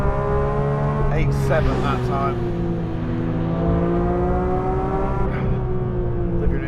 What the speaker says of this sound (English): Rev it out.